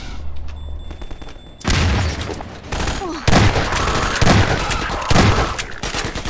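Loud bursts of machine gun fire from the video game Half-Life 2: Episode One, several rapid volleys with booming impacts between them, up close and dominating the sound.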